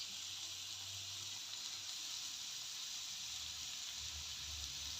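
Potatoes frying in a pan sizzle and hiss steadily as water is poured in, a close, continuous crackling wash with low bubbling rumbles underneath and no talking.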